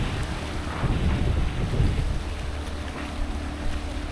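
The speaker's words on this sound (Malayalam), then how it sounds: "നമ്മൾ ഡൈവിന് പോകാൻ പോകുന്ന ബോട്ടാണ് അതാ വരുന്നത്" A dive boat approaching across the sea off a beach at Agatti island rumbles low and continuously beneath wind noise and surf, with no voices.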